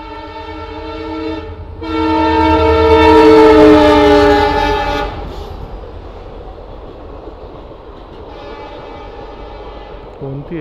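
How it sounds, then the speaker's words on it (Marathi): A passenger train at a railway level crossing sounds its loud horn in a long sustained blast as it approaches, then rumbles past with rolling wheel noise and a short second horn toward the end. "आली वाटतं ट्रेन, नशीब."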